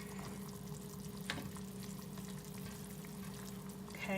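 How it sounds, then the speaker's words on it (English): Spicy seafood sauce with onions and ginger simmering in a pan on low heat, giving a steady, close, soft sizzle and bubbling hiss with a faint clink partway through; no talking. "But you're just gonna keep letting it go and keep letting it simmer."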